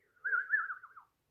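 A single played recording of a sparrow call: one clear, wavering whistled note lasting under a second, alone against silence.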